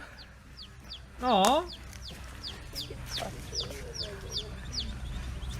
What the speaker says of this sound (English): little baby chicken was adopted by this duck.